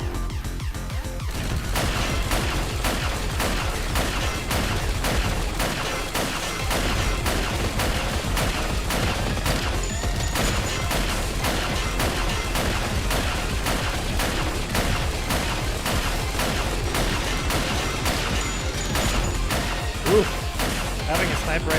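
Dense video game gunfire from Snezhinka: Sentinel Girls 2, including a sniper rifle, rattles in rapid, continuous bursts with crashing impacts, loud and unbroken throughout, mixed with other game sounds and a person talking.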